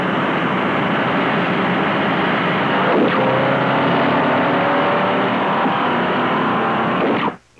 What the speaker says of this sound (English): Both cars will accelerate together up to 50 miles an hour, hold on 50, then on signal,